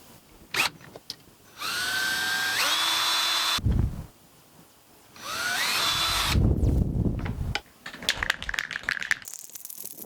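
A power drill drilling PVC pipe runs in two bursts, winding up and down, with clattering knocks and small rattling sounds between and after.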